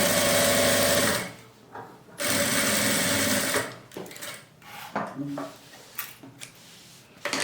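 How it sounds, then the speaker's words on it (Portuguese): A sewing machine runs in loud continuous bursts stitching fabric for a baby bag, stopping and restarting, followed by softer clicks and fabric handling nearby. "Ó, faço essa primeira costura."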